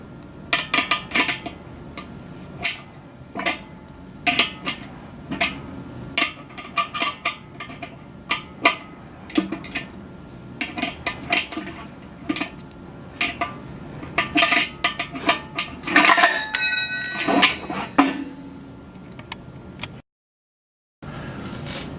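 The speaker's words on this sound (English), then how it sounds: "Use a 12mm wrench to tighten the bolts." A 12mm wrench tightening bolts on a radio mount, producing a long series of sharp metallic clinks and ticks in an irregular rhythm, close and fairly clear, with a brief busier clatter near the end.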